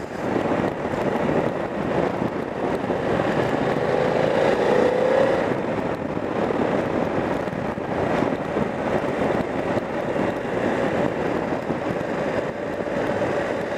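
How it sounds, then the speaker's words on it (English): Steady buffeting wind noise roaring over a running BMW F 900 XR motorcycle engine at about 35-40 mph on a windy day, continuous and fairly loud throughout, with no talking. "it's a very windy day as well"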